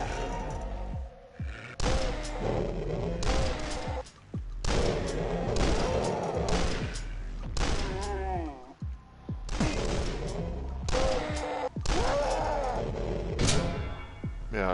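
Shotgun fire in Doosk, a Doom demake shooter, with repeated heavy booming blasts and chaotic in-game noise at a steady pace, loud and close, while someone talks over it.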